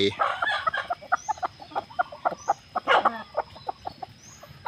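Chickens cluck in quick, irregular bursts close by, with no talking.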